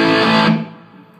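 An electric guitar played through a Carvin V3M amp with high-gain distortion, low end boosted, rings out as a single loud, saturated chord that cuts off after about half a second and leaves a faint decaying tail.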